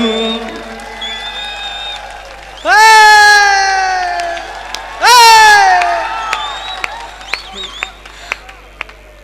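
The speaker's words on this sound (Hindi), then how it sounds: "तालियों का महोत्सव खड़ा करना" An audience at a Hindi comedy poetry recital breaks into two loud bursts of cheering and whooping shouts, then falls back to scattered faint sounds.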